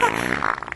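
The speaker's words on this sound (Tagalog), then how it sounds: "Umutot ka ba?" A short, loud fart, a brief low rasp that lasts under a second and stands alone with no talking over it.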